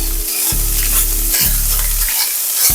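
Onions and pickles sizzle loudly in a hot pan as a utensil stirs them in a few sweeping strokes, a close, dense frying hiss with no voices.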